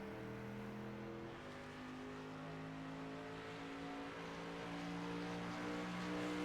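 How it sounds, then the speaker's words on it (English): A tube frame race car brakes hard into a chicane on the front straight at the Charlotte Roval, its engine a steady distant drone whose pitch steps as it downshifts, with no talk. "And heavy braking down into the chicane here on the front straightaway."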